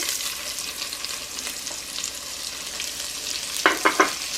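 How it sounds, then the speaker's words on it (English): Chopped onion and sliced leek cooking in a pan over lowered heat, a steady soft sizzle with three quick spoon taps against the pan near the end, no talking. "we're going to cook our onion and our leek"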